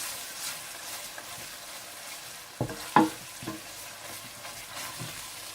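Onions frying in a pot with ginger and garlic added, a steady low sizzle with a few louder stirring scrapes and clatters near the middle, no talking.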